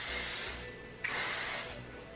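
A Rusk thermal flat iron spray with argan oil hisses onto hair in two short, soft bursts close by, separated by a brief pause.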